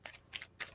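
A tarot card deck riffled in two quick, faint shuffles, each a soft papery burst, close by with no talking.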